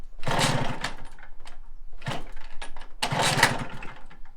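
An MBK Magnum Racing XR moped engine is kicked over in three short rasping bursts, each cranking briefly and dying without catching, close by with pauses between attempts.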